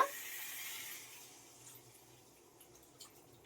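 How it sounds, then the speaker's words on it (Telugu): A glass of water is poured into chicken cooking in a pan, making a brief splash and hiss at the start that fades to a quiet, low simmer. No one speaks. "ఇప్పుడు వాటర్ వేస్తున్నాను, ఒక గ్లాస్ వాటర్ వేస్తున్నాను అనమాట"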